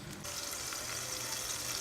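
Food with salt and mixed herbs sizzles steadily in a hot pan, a continuous close frying hiss with no talk over it.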